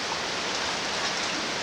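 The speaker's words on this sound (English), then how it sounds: "So hopefully the rain will stop." Steady rain pours on Mount Katahdin in Maine, a dense, even hiss of falling drops filling the short stretch with no pauses and no voices.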